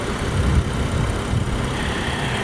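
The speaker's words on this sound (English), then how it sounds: "here you just have a very nice sounding twin turbocharged inline 6-cylinder engine." A 2014 BMW 535i xDrive with a twin-turbocharged inline six-cylinder engine idles close by, giving a steady, even low rumble with no voices over it.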